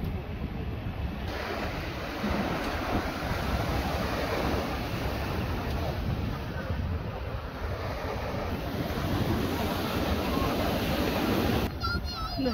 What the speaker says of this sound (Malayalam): ഇങ്ങനെ കടൽക്കാറ്റൊക്കെ അടിച്ചിട്ടൂടെ ഇങ്ങനെ ഇരിക്കാം